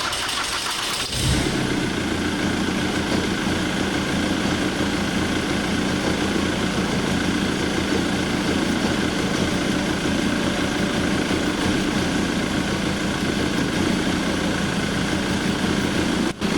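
A car engine cranks and catches after a brief quiet start, then settles into a steady, close idle that runs unbroken to the end, following a cleaning of its fuel injectors and pump.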